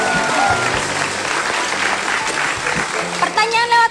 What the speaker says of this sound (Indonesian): Kasih tepuk tangan dulu buat Mbak Kandar.